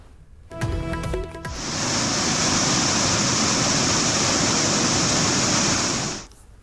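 Flooded river water rushing over the submerged Kondaru bridge linking Telangana and Andhra, heard after a brief mechanical clatter as a loud, continuous, roaring wash of water that fades out at the end.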